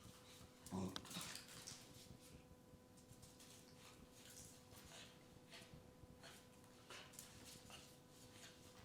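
A dog whimpers and whines indoors in soft, irregular bursts, with one sharper yelp near the start, over a quiet room hum.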